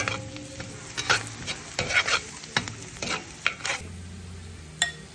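Butter melting in a pan, sizzling steadily, with repeated scraping stirs from a utensil against the pan.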